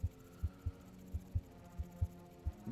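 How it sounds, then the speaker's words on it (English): Heartbeat sound effect from the video game Dome Keeper: a steady series of low, soft thumps about every half second, repeating throughout over a faint continuous hum. "I keep getting this heartbeat"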